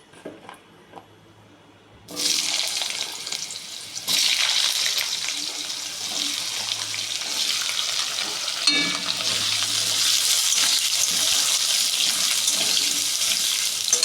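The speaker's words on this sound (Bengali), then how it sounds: "আমার ফোড়ন ভাজা হয়ে গেছে এখন আলুটা দিয়ে দিচ্ছি" Potatoes dropped into hot oil with fried tempering spices, a quiet start followed by a sudden loud, sustained hissing sizzle that swells further as more goes in, close and continuous with no voices.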